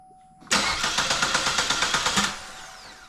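A 2011–2014 Chevy Cruze 1.4 turbo engine cranks and catches, then revs hard in a rapid pulsing roar for about two seconds before settling, loud and close with no talk.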